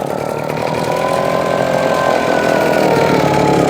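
Husqvarna 150 BT backpack leaf blower, a two-stroke engine running on 50:1 fuel mix, revving up and holding a loud, steady buzzing drone close by, with no talking.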